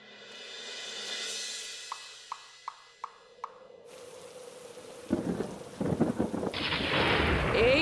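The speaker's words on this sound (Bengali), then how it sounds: "এই তো ঝড় বৃষ্টি শুরু হয়ে গেল" A thunderstorm opens with a long distant roll of thunder, then a few sharp drips, before heavy rain suddenly pours down and hammers a surface loudly through the rest.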